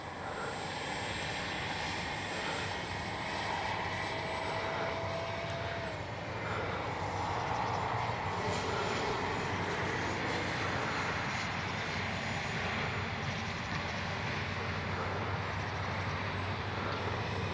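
A Freewing F-22 70mm electric ducted-fan RC jet in flight gives a steady, continuous whooshing roar that stays even in level and distance throughout, with no talk over it.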